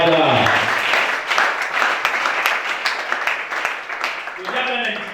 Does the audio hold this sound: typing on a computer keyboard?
no